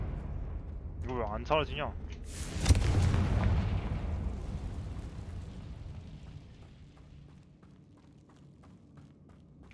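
Blasting Confringo spell explosions in Hogwarts Legacy, with one loud, heavy boom near the middle that rumbles and fades away, while someone talks over the action and sharp spell effects flare just before it.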